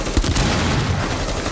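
Gunfire in the Rainbow Six Siege video game during a Terrorist Hunt mission, a loud rapid burst of overlapping shots with sharp cracks early on, dense and continuous with no talking.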